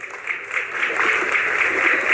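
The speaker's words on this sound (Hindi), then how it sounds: "भाई तालियों की गड़गड़ाहट कम नहीं होनी चाहिए, जोरदार तालियां बजा करके" A crowd at a Haryana political rally claps steadily, producing a dense, even wash of applause that stays loud and unbroken throughout.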